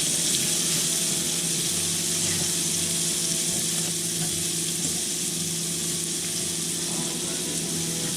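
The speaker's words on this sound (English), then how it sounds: "I've already cooked my bacon, crisp, and I added a little more oil to this. I'm going to cook my onions now." Onions cooking in hot oil and leftover bacon fat produce a loud, constant, nearby sizzle and hiss throughout, with no talking.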